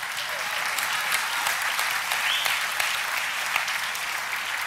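Audience applause at a church sermon, a dense, steady wash of clapping from many hands that holds evenly throughout, with no one speaking over it.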